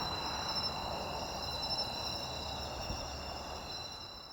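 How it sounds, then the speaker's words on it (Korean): Crickets and other insects chirp steadily at night in a forest where tawny owls hunt, a dense, continuous high-pitched trill filling the background with no voices. "아까 이렇게 벌레들이 내는 소리"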